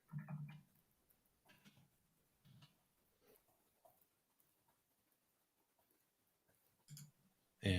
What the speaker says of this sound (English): So you hear me typing